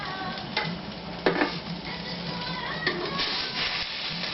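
Grilled polenta pieces being lifted off a grill, giving a steady soft sizzle and crackle with a few brief clinks and scrapes, fairly quiet and close, with no talking.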